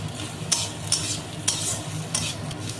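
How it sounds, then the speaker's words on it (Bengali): Ginger-garlic paste frying with onion and green chilli in a pan, a steady sizzle under repeated sharp scrapes of a spatula being stirred about every half second, close and fairly loud. "খুব বেশি ভাজবো না, আদা রসুনের কাঁচা গন্ধটা যাওয়া পর্যন্ত ভেজে নেব।"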